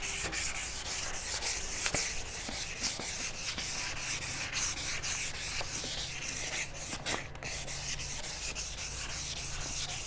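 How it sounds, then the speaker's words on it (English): 500 grit sandpaper rubs back and forth across a plastic headlight lens in a steady, continuous, close-up scratchy hiss, with no talking. "With the 500 grit, I'm just going to go horizontal, try to get rid of the circular motions that we just put in there"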